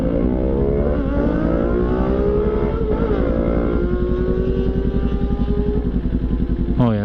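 Several Yamaha and Kawasaki motorcycles with loud aftermarket exhausts rumble and rev nearby in traffic, a steady deep throbbing engine drone throughout, with a sharp rev burst near the end.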